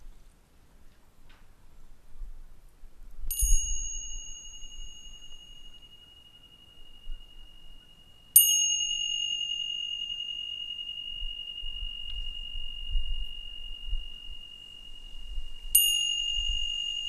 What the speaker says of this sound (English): we'll allow the sound of the bells to bring us into the present moment